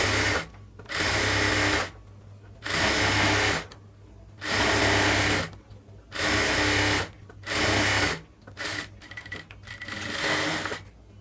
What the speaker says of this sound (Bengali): নিচের সেলাইটা আরেকটা সেলাই দিয়ে দেব।